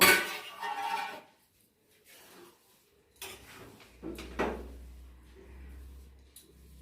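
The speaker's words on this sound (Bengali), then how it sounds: "এবারে আমি ঢাকনাটা আবার খুলে দেখে নেব" A cooking pot lid is lifted open in a home kitchen while khichuri of rice and lentils simmers, giving a few close metallic clanks and clinks between quiet pauses, with a low hum underneath.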